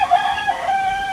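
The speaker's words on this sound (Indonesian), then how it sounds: "Anak mentog, anak ayam pelung." A single Pelung chicken crow rings out loud and close, a drawn-out tonal call held for about a second, in Tasikmalaya, Indonesia.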